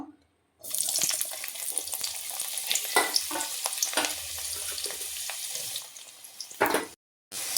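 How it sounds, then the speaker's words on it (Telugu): Amla pieces added a little at a time to hot groundnut oil and frying, with a strong, continuous bubbling hiss that starts suddenly and holds steady for several seconds, punctuated by occasional stirring clatters. "ఇప్పుడు ఈ ఉసిరికాయ ముక్కలు కేజీ ముక్కల్ని కొంచెం కొంచెంగా వేసుకుందామండి మనం నూనెలో"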